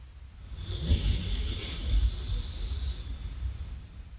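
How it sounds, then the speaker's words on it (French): Slow exhalation through the left nostril in alternate nostril pranayama breathing during a beginner yoga session, a soft continuous airy hiss with faint low rumbles, close and unbroken for about four seconds. "Je ferme la droite et j'expire de la gauche."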